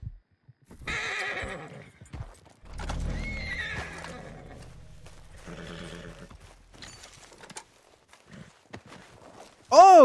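Horses whinny and hooves clip-clop in the Red Dead Redemption 2 video game, with a loud neigh near the start and another bursting in at the end, intermittent game sounds and talk in between.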